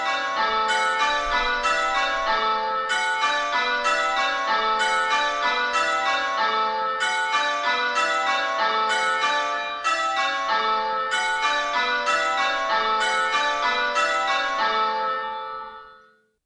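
A sequence of ringing bells, one tone silent in each round, repeating steadily with sharp struck onsets and long overlapping decays, loud and alone, fading out at the end.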